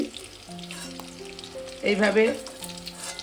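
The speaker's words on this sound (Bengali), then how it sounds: "পনিরটা আমার ভাজা হয়ে গেছে, তুলে নিচ্ছি।" Paneer cubes frying in hot oil for paneer Manchurian, a steady close sizzle that swells briefly louder midway as pieces are moved, with faint stirring and no talking.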